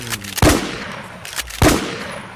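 Gunfire in the zombie shooter Infestation: Survivor Stories, set in Campos City, with two sharp, loud shots about a second apart, each trailing into a brief echoing decay over quieter game ambience.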